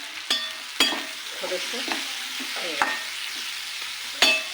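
Ground spice mix for a wheat-flour kachori filling roasts in oil in a kadai, with a spoon scraping and clinking in irregular bursts over a soft, steady sizzle; a voice speaks briefly.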